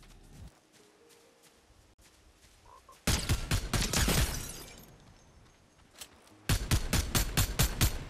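A Fortnite video game gun fires rapid automatic volleys in two loud, close bursts, separated by a quieter stretch of faint background game sound, with no one talking.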